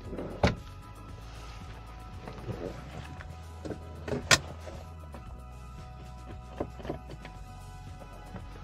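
A manual six-way seat is adjusted inside a 2020 Hyundai Creta SX diesel, giving a few quiet clicks, latch knocks and sliding thumps spaced out over several seconds against a low, steady cabin hum.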